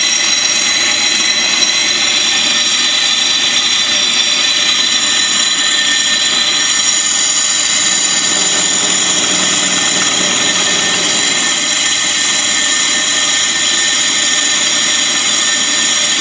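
A brake lathe turns a brake drum with a steady, continuous high machining whine and broad mechanical noise, loud and unbroken for the whole stretch, with no voices.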